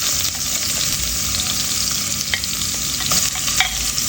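Garlic cloves and onion sizzle loudly in hot oil in a pan, with a constant bright hiss and occasional scrapes of stirring, no voices present.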